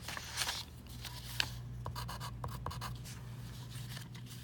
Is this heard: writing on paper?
yes